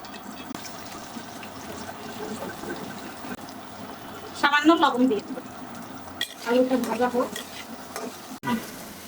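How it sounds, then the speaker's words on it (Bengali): Potato pieces fry in hot oil in a pan in a home kitchen, cooked while making a Bengali katla fish curry with cumin paste. A steady low sizzle runs throughout, with a voice talking over it in short bursts. "এই তেলে আলুটা ভেজে নেব"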